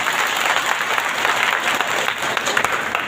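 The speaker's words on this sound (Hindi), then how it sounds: "स्वागत में आप लोग जोरदार ताली बजा देगा" Audience applause at an Independence Day gathering, a dense, continuous wash of many hands clapping together at steady loudness, sounding like a sizable crowd.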